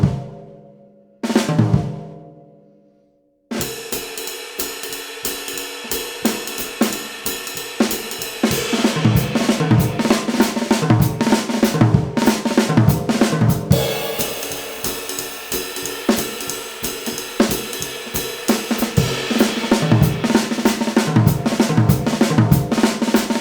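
Ratamacue rudiment played around a drum kit, ruffs moving across snare, tom, floor tom and bass drum; after a couple of brief opening hits and a pause, a loud, continuous stream of rapid drum strokes with resonant booming toms and bass drum.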